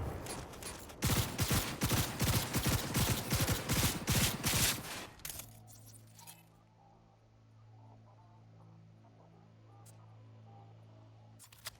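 Rapid gunfire rattles loudly in a dense burst during a Cyberpunk 2077 firefight, then cuts away to a quieter low hum with faint game sounds and a last sharp click.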